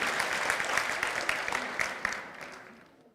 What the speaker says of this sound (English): Round of applause for our parents.